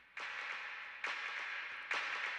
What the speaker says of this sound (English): That's like a clap echo reverb.